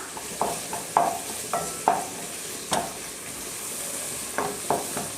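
Onions and tomatoes with ginger-garlic paste sizzle and fry steadily in a pan while a utensil scrapes and stirs in repeated sharp strokes, close up.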